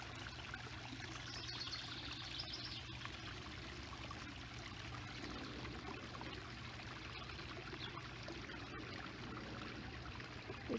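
Steady rippling garden pond water flows continuously at low volume, a soft outdoor babble with a faint hum beneath it.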